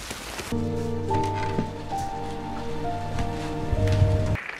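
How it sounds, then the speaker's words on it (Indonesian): Heavy rain pours down on the town of Derry in a scene from the 2017 film IT, a steady, dense hiss heard close and loud beneath sustained musical tones. "Di luar, cuaca di kota Derry sedang hujan deras."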